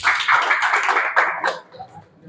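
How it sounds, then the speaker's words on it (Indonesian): A classroom group of students applauds a team, a dense burst of many hands clapping close by that fades out after about a second and a half. "Kelompok 2, tepuk tangan dong"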